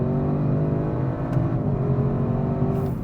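An Audi RS6 Performance wagon engine drones loud and steady from inside the cabin as the car accelerates, a continuous rising roar throughout.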